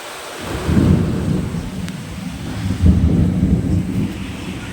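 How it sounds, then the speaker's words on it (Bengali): Heavy rain pours down during a storm with gusty wind and lightning, in a dense, continuous roar, with low rumbling swells rising and falling. "বিশাল হারে বৃষ্টি হচ্ছে, বিশাল বৃষ্টি, দেখা যায় না কিছু"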